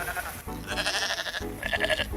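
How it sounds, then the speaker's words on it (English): Several sheep bleat loudly and close by in overlapping, wavering calls, with two long bleats separated by a short gap over a steady background of farm noise. "She just figured out she could talk to sheep"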